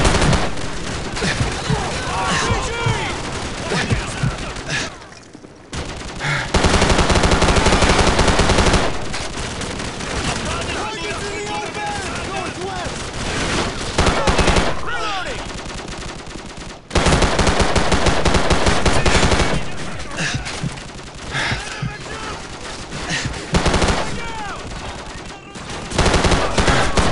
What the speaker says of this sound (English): Hold your fire!